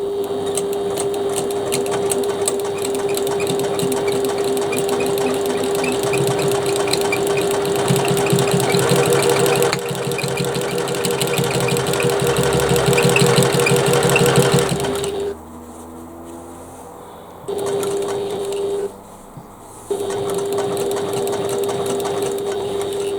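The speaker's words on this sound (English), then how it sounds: "I'm just going to sew that little bit extra" Sewing machine stitching a bag, running in a steady continuous whir for about fifteen seconds, then stopping and restarting in two shorter bursts with brief pauses between them.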